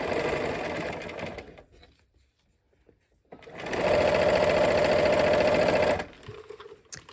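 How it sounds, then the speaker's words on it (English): Sewing machine stitching a quilt block, a short burst of running stitches, then a pause of near silence, then a longer steady whirring run that stops abruptly, heard close without talk. "we're going to sew from this side with the most seams"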